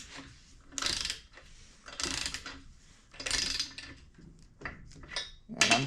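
A ratchet wrench snugs down head bolts in a crisscross sequence on a rare Kawasaki F11M engine during restoration, giving four or five short bursts of clicking with brief pauses between them, close by and alone.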